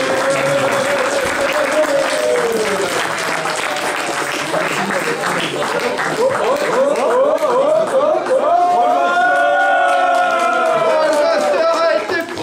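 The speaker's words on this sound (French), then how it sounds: "Je les applaudis bien fort" An audience applauds at an award ceremony for a role-playing game tournament, steady clapping and crowd noise throughout, with a voice talking over it and cheering voices rising toward the end.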